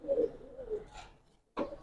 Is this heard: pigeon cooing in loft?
yes